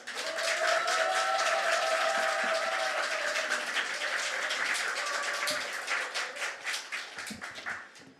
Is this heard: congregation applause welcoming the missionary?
yes